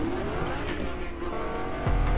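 A car in a video game drives with engine drone and squealing tires, a continuous moderately loud rush ending in a sharp skid and thump near the close, with no talk.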